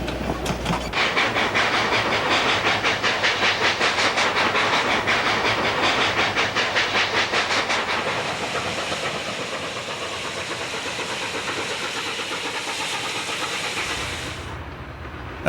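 The coal-burning Durango–Silverton narrow-gauge steam train chugs steadily with rhythmic exhaust beats and hissing steam, loud and close, easing slightly toward the end.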